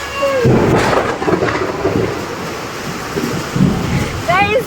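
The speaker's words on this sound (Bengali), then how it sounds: "এরকম বৃষ্টি পড়ছে আর প্রচন্ড লেভেলের মেঘ ডাকছে" Heavy rain falls with loud thunder rolling in deep, rumbling surges over a constant wash of rain, close and powerful throughout.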